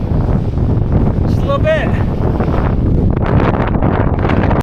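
Strong, constant wind buffets the microphone on an exposed mountain ridge during a hike near Banff, Alberta, a loud, rumbling roar throughout, with a brief voice speaking partway through.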